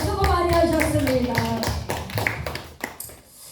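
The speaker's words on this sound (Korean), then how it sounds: "하나님께 영광의 박수 드리겠습니다" Worshippers at a Korean church gathering clap together in praise, a busy burst of many hands that thins out toward the end, with a voice and sustained tones carrying over the start.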